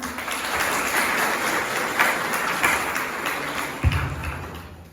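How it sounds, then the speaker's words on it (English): Applause from an audience welcoming former Supreme Court judge Justice Ashok Bhan at a Punjab University alumni event, a steady broad wash of many hands clapping for several seconds, moderately distant, with a few louder claps standing out. "Please welcome him with a huge round of applause."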